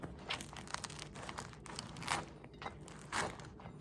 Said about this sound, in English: Still have that nice crunchy crust.